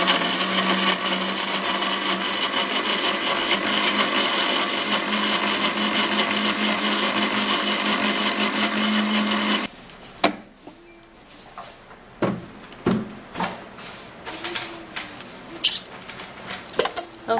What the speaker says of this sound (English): I'm going to be putting it into the blender, and then we're gonna blend.